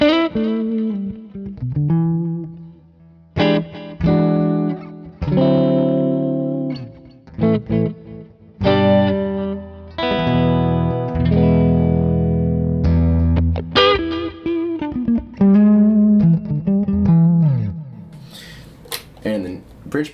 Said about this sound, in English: So in the neck, you have this sort of big open, kind of jazz boxy sound.